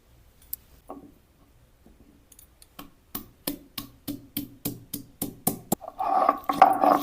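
Fresh ginger ground together with white cumin and black cumin into a spice paste while making pumpkin paratha: a quiet start, then a steady run of rhythmic grinding strokes that grow louder and end in a rough, continuous scraping.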